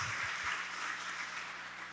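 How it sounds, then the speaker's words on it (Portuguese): A church congregation applauding together during a celebration service, a continuous wash of clapping at moderate loudness, even throughout. "Você pode dar um glória a Deus, aplaudir ao Senhor Jesus, irmão?"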